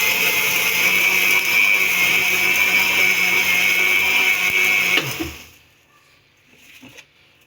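An electric mixer whirs steadily and loudly through cake batter as sugar is added bit by bit for a chocolate flower marble cake, running continuously for about five seconds before switching off, leaving faint clicks and quiet room sound.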